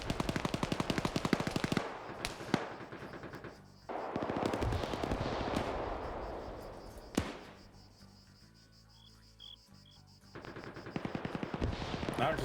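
Gunfire rings out in a PvP shooter match, with rapid automatic bursts, sharp single shots and long stretches of ambient noise between, moderately loud and echoing.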